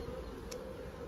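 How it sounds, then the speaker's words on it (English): Bees drone steadily around a temporary wooden swarm box at sundown in cold weather, a faint, continuous buzz with one brief louder pass of a bee close by. "I'm just waiting for the last bees to settle"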